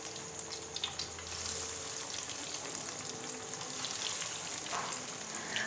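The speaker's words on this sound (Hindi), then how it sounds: "तो चलिए हम भी फ्राई करना स्टार्ट करते हैं। घी गर्म हो चुका है, अब एक एक करके डालते हैं।" Chicken cutlets fry in hot ghee with a soft, continuous sizzle and crackle that holds steady throughout, faint and close, with no voices.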